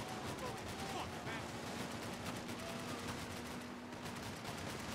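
Gunfire in the video game Max Payne 3, dense rapid shots forming a continuous faint rattle under ambient game noise, with a person talking briefly.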